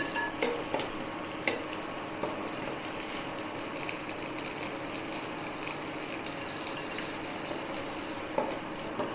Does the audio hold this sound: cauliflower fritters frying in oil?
yes